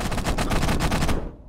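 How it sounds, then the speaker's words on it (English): Rapid automatic gunfire from a weapon in the Halo: Combat Evolved video game, a dense, loud burst of repeated shots lasting over a second before cutting off. "Oh, it's the gun!"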